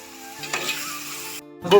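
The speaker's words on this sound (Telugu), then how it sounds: "నానబెట్టుకున్న కాకరకాయ ముక్కలను అయితే మంచిగా నూనెలు వేసేసి మంచిగా ఒక ఐదు నిమిషాలు అయితే గట్టిగా ఫ్రై చేసుకోవాలి" Soaked bitter gourd pieces fry in hot oil with a steady sizzle and a few stirring scrapes. The sizzle drops out briefly near the end, then a louder burst returns.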